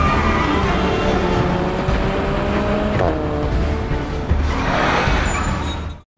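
Stolen car speeding away in a film scene, engine revving and rising in pitch as it accelerates, with a whine and tire noise before the sound cuts off abruptly at the end.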